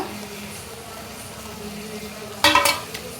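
Chicken liver fries in a pan as spice powders are stirred in, a low steady sizzle followed by a sudden loud burst of scraping and clatter near the end, with no talking.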